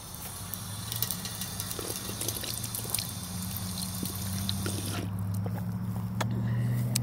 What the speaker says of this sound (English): I need to take a little sip break from the fountain here.